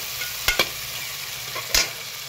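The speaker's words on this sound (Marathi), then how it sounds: "याला पण चांगला पण मऊ होईपर्यंत परतून घेऊया" Chopped tomato sautés in a pan for mushroom pulao, a soft steady sizzle broken by a few sharp spatula knocks against the metal, close up and with no voices.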